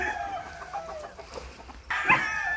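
Fighting roosters at a gamefowl farm in Pangasinan crowing and clucking, several overlapping calls with one sharper crow near the end, moderately close among faint farm background.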